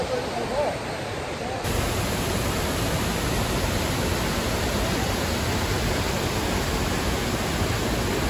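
Mailung waterfall in Rasuwa, heard from its base as a loud, steady, broadband roar of falling water that jumps up after a brief quieter opening and then stays constant.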